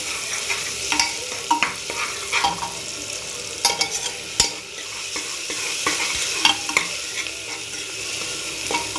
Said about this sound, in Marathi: एक चमचा हळद टाकून आपण परतून घेणार आहोत।